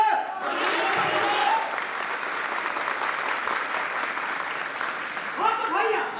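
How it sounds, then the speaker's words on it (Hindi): Audience at a play clapping for themselves, a steady, full burst of applause held for several seconds, with a voice speaking at the start and end. "तो आए हुए दर्शक देवता लोग एक बार अपने लिए भी ताली बजाइए।"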